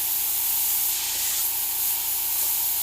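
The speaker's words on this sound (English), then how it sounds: "And for airbrush here, I'm using my Takumi Eclipse," A Takumi Eclipse airbrush sprays paint in a steady, close, continuous hiss that holds level throughout with no talking, used on a large-scale Rancor monster piece.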